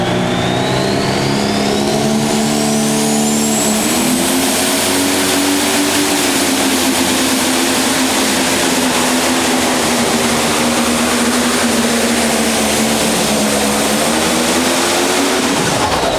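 A pro stock tractor hauls a pulling sled at the 2019 Scheid Diesel Extravaganza. Its engine roars loud and sustained throughout, with a high whine that climbs in pitch early and then holds steady.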